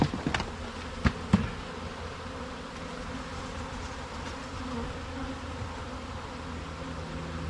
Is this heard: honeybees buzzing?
yes